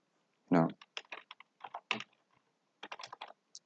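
Keys tapped on a computer keyboard in short, irregular clusters of close, crisp clicks, with brief pauses between the runs.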